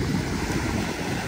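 Sea waves wash onto a fine-sand beach in Vietnam, making a steady, close broadband rush mixed with wind noise and no voices.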